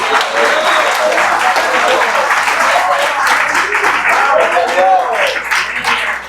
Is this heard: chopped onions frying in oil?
no